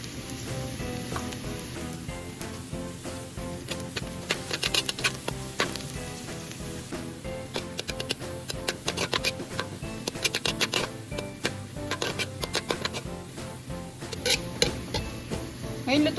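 Garlic toasting in hot oil in a pan until crispy, for a Kapampangan pancit palabok topping: steady close sizzling and frying with frequent stirring scrapes and clinks throughout.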